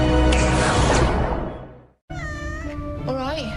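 A cat meows loudly in two drawn-out calls, the first long and wavering before fading into a short silence, the second rising and bending in pitch, close and clear.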